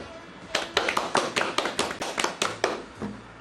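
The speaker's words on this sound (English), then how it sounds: "let's get a round of applause for our co-host, Garcia" Hands clap about a dozen times in a quick, even rhythm at a lecture, each clap sharp and close, greeting a co-host before trailing off near the end.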